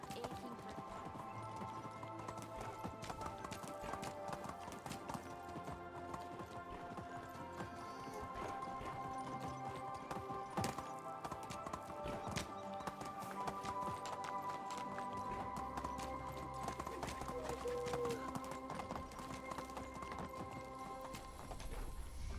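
Horse hooves clip-clop at a steady gallop in the medieval survival game Medieval Dynasty, with occasional neighs over a quiet ambient game backdrop.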